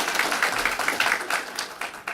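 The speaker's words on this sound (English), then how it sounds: "So can we give them a round of applause as well?" Audience applause at a jail officers' academy graduation ceremony, a dense wash of many hands clapping steadily for about two seconds with no talk over it.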